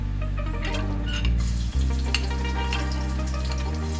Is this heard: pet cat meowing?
no